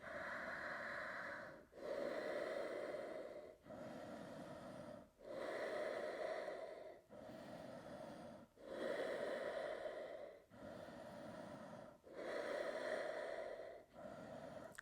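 Steady, loud breathing while holding an Ashtanga boat pose: alternating inhales and exhales in an even rhythm of about two seconds each, close and alone.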